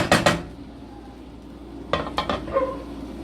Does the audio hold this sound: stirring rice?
yes